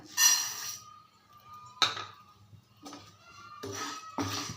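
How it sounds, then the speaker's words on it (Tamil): A pan is set down on a stovetop, ready for dry roasting rice to make laddu, giving several sharp metallic clanks spaced over a few seconds, close and fairly quiet, with no talk. "பாருங்கள் ஒரு பேன் வச்சுருக்கேன்"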